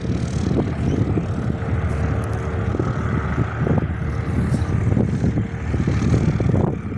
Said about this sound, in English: Qantas A321, the newest one, XLR, going to Perth, coming in from Sydney